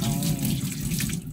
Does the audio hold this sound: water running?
yes